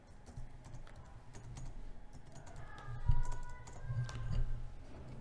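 Someone types a password on a computer keyboard, a quiet run of soft, irregular key taps with a few heavier strokes toward the end.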